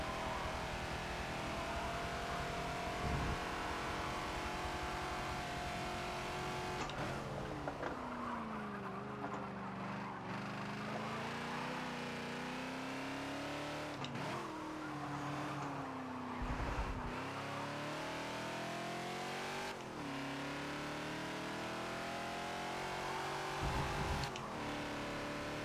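Ford Falcon XB race car in Forza at Silverstone, its engine droning and rising and falling through gear changes with brief tire squeal, loud and continuous throughout with no talking.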